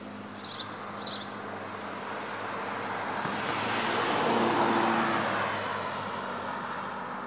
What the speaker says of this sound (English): So my cameraman zooming by about 120 miles per hour.